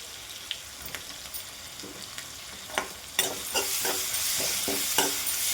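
Sliced onions and green chillies fry in a pan with asafoetida, giving a soft sizzle under repeated scraping and stirring taps from a spoon, the frying growing louder and busier partway through.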